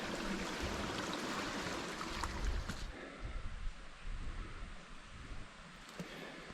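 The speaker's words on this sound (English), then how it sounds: "There's still a lot of water rushing through over here as well." Water rushes down a gully, a broad continuous hiss and churning wash heard up close, loud at first and easing slightly toward the end.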